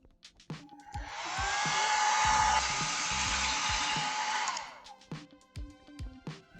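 A hair dryer blows steadily for about four seconds to dry a watercolor painting of poppies, loud and close, with a broad rushing airflow that switches on and off cleanly. Brief knocks and small handling noises come before and after.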